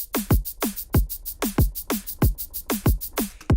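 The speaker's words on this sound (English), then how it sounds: "So this is what our shaker sounds like." Rapid, evenly spaced electronic shaker hits in a tight sixteenth-note pulse, crisp and processed-sounding, repeating steadily without any voices.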